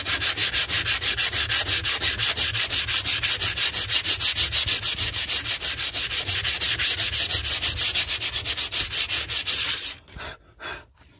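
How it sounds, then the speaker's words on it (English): Fast, even strokes of hand sanding on body filler scrape continuously at close range, slowing into a few separate rubs at the very end. "It's not a quick process, unfortunately, especially hand sanding."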